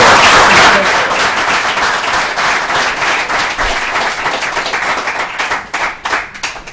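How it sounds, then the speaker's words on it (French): A studio audience on a French-language talk show applauds a guest, with loud, dense clapping that stays steady before breaking into looser, separate claps toward the end. "je vous demande d'applaudir, hein, exceptionnellement"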